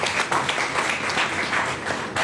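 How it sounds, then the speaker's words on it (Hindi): Audience applause at a direct selling industry talk in India, a steady dense patter of many hands clapping throughout, fairly loud and without a break. "तालियां हो सकती है आपके लिए"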